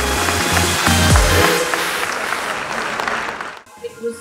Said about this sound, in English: we have a round of applause for each and everyone present over here